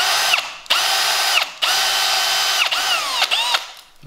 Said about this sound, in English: And you're gonna drill just a little bit.